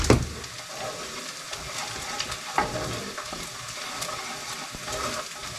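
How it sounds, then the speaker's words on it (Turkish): Meat and potatoes sizzle steadily in a hot pan with occasional scraping stirs and clatter, moderately quiet and close, no talking. "Etle patates bir arada bir pişecek."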